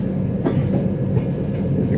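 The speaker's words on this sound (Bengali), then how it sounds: "ট্রেন মোটামুটি 7 ঘন্টা লেটে চলছে।" Shaktipunj Express passenger train running on its tracks, with a loud, continuous low rumble and a couple of brief rattling clacks from inside the carriage, and no speech.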